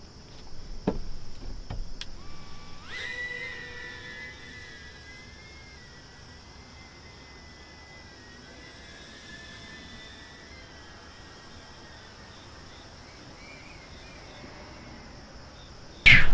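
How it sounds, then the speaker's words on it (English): A small BetaFPV FPV drone flies continuously for about thirteen seconds, its high, steady motor whine shifting slightly in pitch as it maneuvers, heard at moderate distance with no talk. "flying an FPV drone is actually pretty awesome"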